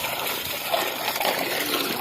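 Water pours and splashes steadily as an animal is bathed in a Punjabi village, a continuous rushing gush that is close and fairly loud, with no voices over it.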